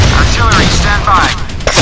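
Naval artillery fire in the Modern Warships game: loud, low booming blasts fill the short stretch over a dense rumbling bed, with a faint rising radio-style tone woven through.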